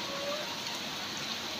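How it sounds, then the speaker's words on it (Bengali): Steady rain falls on Ghoramara Island in the Sundarbans, a continuous even hiss of drops on surfaces with no voices. "এখন বৃষ্টি হচ্ছে"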